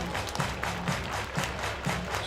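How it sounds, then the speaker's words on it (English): Minor league baseball crowd at a Long Island Ducks vs Somerset Patriots game clapping along in a rhythmic pattern, fairly faint and distant, with a steady beat of stadium music underneath. "Everybody clap your hands."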